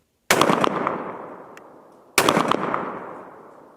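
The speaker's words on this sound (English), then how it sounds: "Let's just pop off a few rounds here." A Beretta 686 Silver Pigeon 20 gauge over-under shotgun fires two loud, close shots about two seconds apart. Each blast trails off in a long, reverberant decay outdoors.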